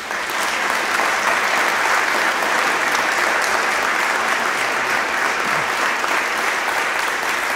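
A seminary campus audience applauds to welcome Pastor Mark Jobe, a steady, dense wash of clapping from many hands that stays at an even, loud level throughout, with no voices over it.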